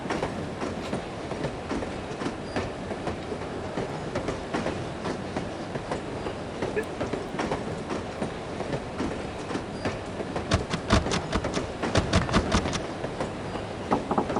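A train runs in the video game No One Lives Forever, with steady rolling rumble and a burst of rhythmic clickety-clack of wheels on rail joints toward the end, no voices.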